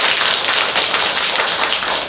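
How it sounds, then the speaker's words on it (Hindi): A group of schoolchildren in a government school classroom clap their hands, a dense burst of quick, overlapping claps that carries on for about two seconds. "तो ताली बजाओ।"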